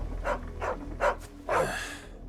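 Dog barking in the video game Final Fantasy XVI: several short, breathy barks spaced about half a second apart, moderately close, followed by a longer huffing bark over a low background hum, with no talk.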